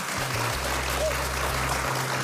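Applause from a TV quiz-show studio audience after a contestant wins five envelopes, a steady dense clatter of clapping lasting the whole stretch over a low hum.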